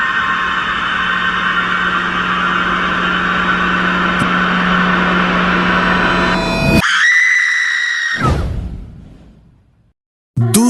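A woman's death scream in a Hindi horror story about a haunted village witch, a loud sustained shriek layered over rumbling effects for about seven seconds, cutting off abruptly, then a short fading sweep and a brief burst at the end.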